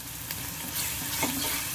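Ginger garlic paste frying with onions in a pan, giving a continuous close sizzle with light stirring scrapes over a brief stretch.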